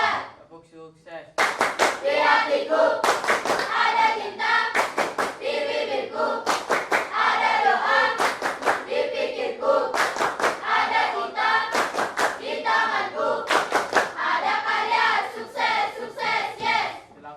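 A group of children and adults performs a patterned success clap in a school classroom, sharp synchronized claps in a rhythmic sequence with short pauses, loud and close, with chanting voices mixed in.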